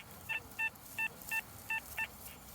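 Detector tones from an XP Deus II sweeping over a buried target in Derbyshire soil, six short evenly spaced electronic beeps of matching pitch, moderately loud over a faint background hiss, with no talking.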